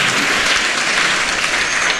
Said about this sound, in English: May you give them a big hand of applause.